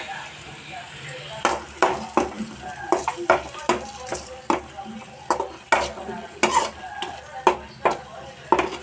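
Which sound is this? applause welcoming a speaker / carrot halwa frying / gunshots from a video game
carrot halwa frying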